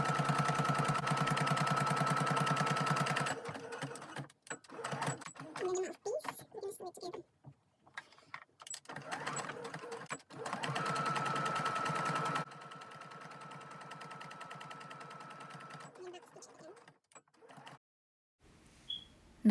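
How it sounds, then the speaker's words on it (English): A sewing machine stitches a fabric face mask with a filter pocket along a quarter-inch seam, running in steady mechanical bursts of rapid needle chatter that stop and start, close by, with brief pauses between runs. "Now we're gonna sew it together using 1/4 inch seam allowance."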